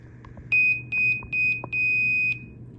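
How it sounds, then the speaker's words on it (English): Four sharp, high-pitched electronic beeps in quick succession, the last one held longer, over a low background hum. "I could tell it's only 2 beeps instead of 3"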